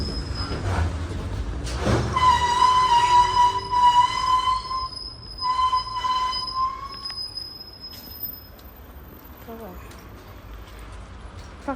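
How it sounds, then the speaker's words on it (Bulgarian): Tram number 509 grinds along the rails with loud, high-pitched wheel squeals that rise and hold in sustained tonal screeches, alongside rumbling running noise and clacking over joints, heard close from inside the car. "509 е доста скъцащ трамвай."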